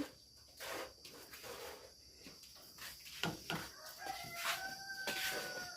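A rooster crows twice in quick succession, mid-distance, over a steady bed of chirping crickets and insects, with no voices.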